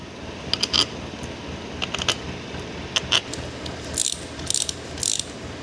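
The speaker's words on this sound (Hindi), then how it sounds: "अब नट बोल्ट से हम लोग इसे टाइट कर देंगे।" A hand ratchet tightens nuts and bolts on the aluminium body of a 4-stroke petrol power weeder engine, with short bursts of quick metallic clicks repeated at intervals against a quiet background.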